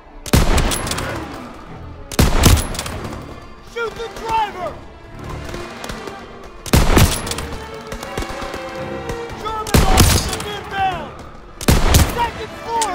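Bursts of gunfire from the World War II shooter Call of Duty WW2 crack out in loud, repeated volleys several seconds apart, with shouted voices and battle noise filling the gaps.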